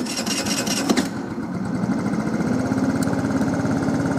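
A moped engine starts with a brief rattle, then settles into a steady, buzzing idle that holds evenly, fairly loud and close, with no talking.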